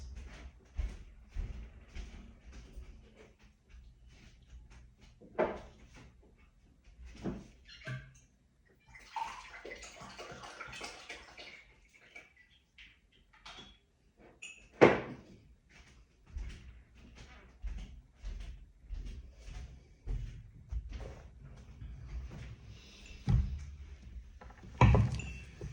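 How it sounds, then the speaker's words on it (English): Water runs from a tap while someone gets a drink, heard in intermittent gushes and splashes among knocks, clinks and a door or cupboard bump, fairly close and quiet with no talk. "I'll get a drink of water and we'll soldier on."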